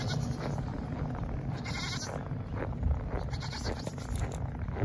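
Fainting goats bleat at a farm outdoors, with a few wavering calls rising over soft background noise at moderate distance.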